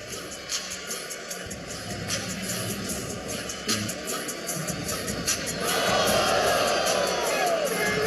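A basketball arena crowd keeps up a steady roar of murmuring and scattered whoops during a replay review, swelling louder and more excited over the last few seconds.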